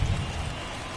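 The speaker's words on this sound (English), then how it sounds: "the field's not going to be able to hold up if the rain gets any worse than this" Steady rain pours over a baseball field in MLB The Show 24, a dense, even hiss with low rumble that stays constant and fairly loud for the whole second, with no talking.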